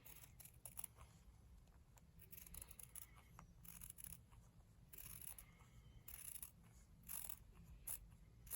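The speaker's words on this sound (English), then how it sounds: "we are going to cut a 1/4 inch on the outside of the stitching we just did." Scissors snip through quilt fabric a quarter inch outside a stitched seam for reverse appliqué, producing quiet, repeated close cuts over a faint steady background hum.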